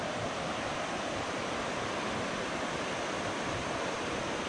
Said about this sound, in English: Listening to the sound of running water all night.